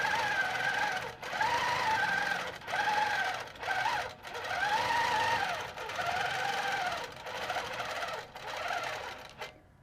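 A longarm quilting machine stitches a pantograph pattern with a steady, rapid whirring hum that rises and falls in runs broken by brief pauses, heard close up with no talk.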